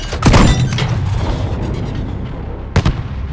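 A grenade explosion in the Call of Duty Modern Warfare video game gives a heavy, close boom at the start, a low rumble under battle noise, and a second sharp blast near the end.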